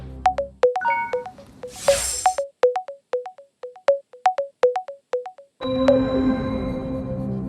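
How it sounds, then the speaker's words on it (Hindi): A repeating electronic ringtone on a quiz show set, a quick series of sharp, evenly spaced beeping tones, followed by a steady ringing tone over background noise. "आरजू गुप्ता जी को फोन लगाया जाए"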